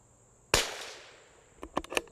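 A Springfield 2020 .22LR rifle fires one sharp, close shot at a target. The crack has a fading tail and is followed by a few quick, lighter clicks.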